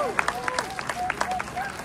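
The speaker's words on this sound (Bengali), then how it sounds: "হাততালি চাই তো" An audience applauds at a community awards event, with scattered, uneven claps and crowd murmur over a short stretch while a voice speaks over the clapping.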